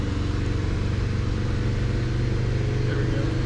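A Subaru GR/VA STI engine runs on a dyno with a steady, loud, rumbling drone that holds even throughout.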